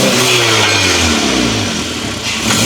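A beat-up Honda car with a damaged, rattling exhaust flex pipe runs loud and close, its engine revving and droning continuously with no voices.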